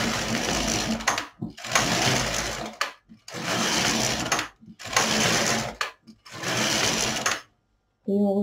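LK 150 knitting machine carriage knitting rows, sweeping back and forth in five loud, rhythmic whirring passes separated by short pauses, close up.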